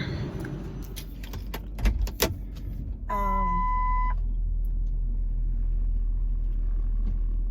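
Someone climbs into a car: keys jangle and a door thumps, then a short series of chime beeps sounds and a low steady engine rumble carries on to the end.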